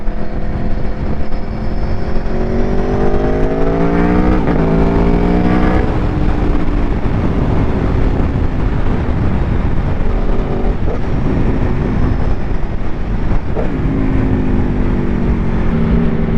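Loud close V4 engine of a 2024 Aprilia Tuono V4 1100 Factory ridden hard, revs sweeping upward between gear shifts, with a brief lull and then renewed acceleration, all under strong wind roar.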